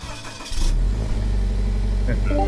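A Toyota GT86 engine in the game Gran Turismo 5 catches and settles into a deep, steady rumble after a brief quiet start, with a few faint tones over it.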